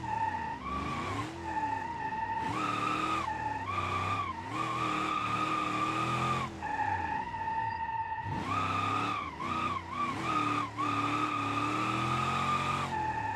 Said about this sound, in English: Keep the drift alive.